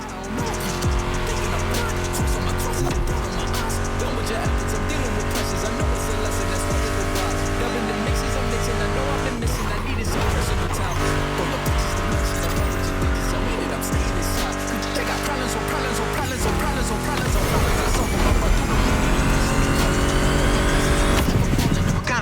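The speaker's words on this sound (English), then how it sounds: "Meshes well with the sound of the engines, you feel me?" Roaring muscle car engines, including a Mustang GT, rev and scream continuously with tire squeals in the video game Motorfest, layered under loud driving music with heavy riffs throughout.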